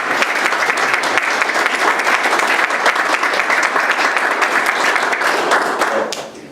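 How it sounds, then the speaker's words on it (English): A crowd applauds Jim at a public meeting, dense steady clapping filling the room at an even level for about six seconds before thinning out and fading at the end. "Let's give Jim a round of applause."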